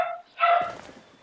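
Pet dog barking indoors, two short yappy barks close to the microphone with a brief pause between, then quiet.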